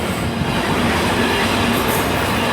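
Freight train led by a class 66 diesel locomotive passing through Stirling, a loud, steady rolling roar of wagons with clickety-clack and a faint wheel squeal.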